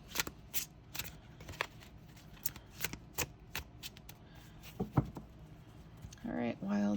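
Wildwood Tarot cards riffled and shuffled repeatedly in quick bursts, close up, with a brief voice near the end.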